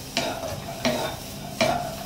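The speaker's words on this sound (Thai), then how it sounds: "เอาลงมาคั่วเปล่าๆนะฮะให้กุ้งมันแห้งนะครับ" Washed, drained dried shrimp are dry-roasted in a pan without oil. A soft crackling hiss is broken by three evenly spaced scraping stirs, each a close, brief rasp of spatula against pan.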